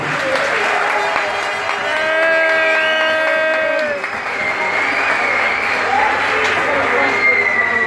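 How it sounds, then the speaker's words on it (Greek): Strong, sustained applause from a nightclub audience at a comedy premiere for Markos, dense and loud throughout, with whistles and voices mixed into the clapping. "Ένα δυνατό χειροκρότημα για τον Μάρκο."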